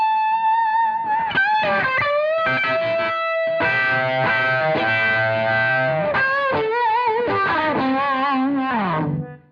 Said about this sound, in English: so I just put the RC boost on. I'm going to add the Tube Dreamer.